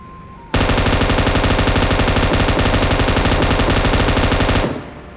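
An M249 light machine gun in PUBG Mobile fires one unbroken, loud, close burst lasting about four seconds, a dense rapid rattle that stops abruptly and leaves a brief fading tail.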